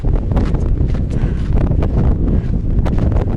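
Strong, stormy wind buffets the microphone in Joshua Tree National Park, a loud continuous roar with gusting rumble throughout.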